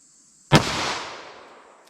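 A single loud, sharp gunshot from a .38 Special +P Speer 158-grain lead semi-wadcutter hollow-point load fired through a 2-inch barrel, with a sudden crack followed by a long, fading reverberant tail and no talking.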